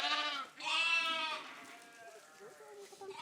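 Sheep bleat repeatedly at close range, the ewes calling loudly after finding their lambs, several overlapping cries with one long, strong bleat near the start of a short stretch of barnyard noise.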